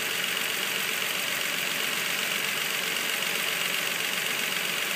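A Nissan 3.5L engine idles steadily after a timing chain replacement, a constant close whirring hum with faint ticking and no change in pitch, heard on its own.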